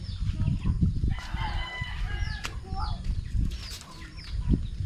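A rooster crows and chickens, including broilers, cluck and chirp nearby, with low background rumble and some faint voices mixed in.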